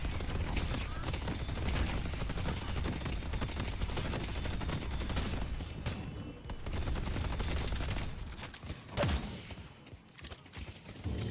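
Rapid turret gunfire in a video game, a dense continuous rattle of shots filling the scene, dipping briefly near the end before resuming.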